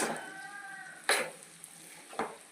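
Cauliflower and potatoes sizzle in a hot pan while being stirred, with a steady frying hiss and two sharp scraping strokes of a spoon against the pan.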